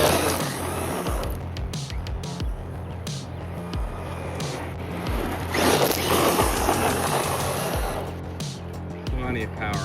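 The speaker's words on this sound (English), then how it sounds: "I can tell right away this thing is drifting really nicely" A Hosim X27E Vexa 1/8-scale RC truck drifts nearby, its electric motor whining and revving with rough scraping tire noise across the surface, loud and continuous, while a person talks over it.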